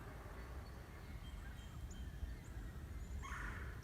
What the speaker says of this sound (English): There's birds. Definitely birds.